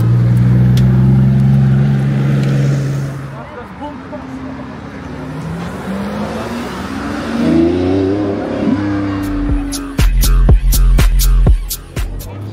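Track cars at the Hockenheimring during a Dörr Group Day event, one engine revving and droning past close by with shifting pitch, followed by sharp loud bangs and pops near the end, people talking faintly in the background.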